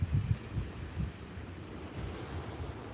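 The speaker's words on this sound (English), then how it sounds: "You can hear from the sound of the waves. It's not crashing onto the beach." Gentle waves lap at a sheltered beach on a calm evening, low rolling surges arriving at spaced intervals with steady wind rumble underneath.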